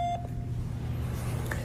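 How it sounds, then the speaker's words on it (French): A short electronic tone sounds at the start, followed by a faint second blip, over a steady low background hum. "Veuillez laisser votre message après le bip."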